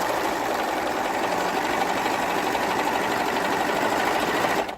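An overlock sewing machine runs fast and steadily while sewing a long skirt seam, its blade trimming off the fabric edge, a loud continuous mechanical whir that stops abruptly at the end.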